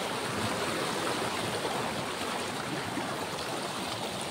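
Strong waves of water rushing and churning in a continuous loud wash, close by and steady, without distinct breaks between surges.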